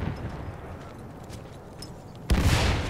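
Gunfire in Battlefield 1 crackles faintly over a low battle rumble, then a sudden louder burst of shots and impact noise erupts near the end.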